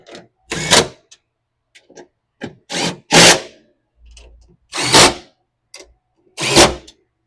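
Factory bolts being tightened on a Kawasaki KRX 1000 seat: a series of separate, fairly close metallic ratcheting and clicking bursts with short pauses between them.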